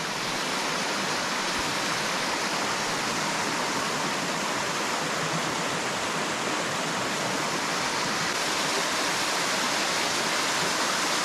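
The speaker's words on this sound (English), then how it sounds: "look at this set of falls, the way the fall is coming off" A waterfall on a small native brook trout stream pours in a steady, full rushing roar, close and unbroken throughout, with no voices over it.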